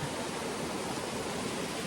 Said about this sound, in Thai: ข้างหน้านู้นเนี่ยเป็นน้ำตกเลยนะ